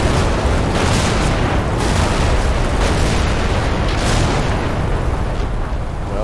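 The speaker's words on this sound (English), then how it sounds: "Oh, heavy artillery bombardment." Heavy artillery bombardment in the WWII strategy game Men of War, set during the 1939 defense of Poland: a loud, continuous rumbling roar of blasts and booms that rolls on without pause.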